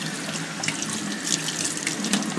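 Water runs steadily from a tap into a sink, soaking a felt spaghetti western style hat, a constant close hiss and splash with no talking.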